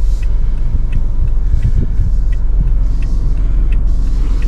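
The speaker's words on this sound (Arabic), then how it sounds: "وابدأ ان انا ارجع بالسيارة" A car reverses slowly while parking, its engine a low steady rumble close by with faint ticking, no talking over it.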